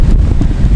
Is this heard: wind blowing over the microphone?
yes